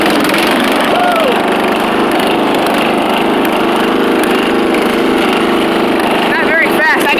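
A riding lawn mower engine runs in high gear, a loud, continuous close-up drone with a steady buzz, while a person talks and whoops over it.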